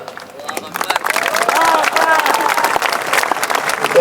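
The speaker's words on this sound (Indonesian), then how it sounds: "Tengok orang ini ragu-ragu tepuk tangan." Audience applause at an Islamic tabligh akbar gathering in Riau, a dense wash of clapping that swells over the first second and holds steady at a fairly loud level, with crowd noise mixed in.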